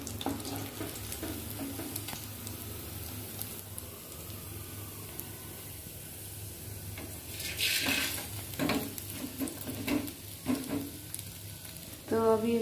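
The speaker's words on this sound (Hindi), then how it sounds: "अभी माछा फ्राई कर रहे" Fish frying in oil in a pan, with a steady close sizzle and occasional scraping stirs and clinks of utensils against the pan growing busier toward the end.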